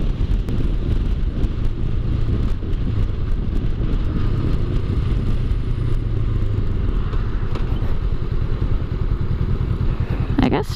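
A motorcycle cruises steadily at low speed on a short test ride, its engine drone continuous and close with wind buffeting the microphone; occasional speech is faint beneath it.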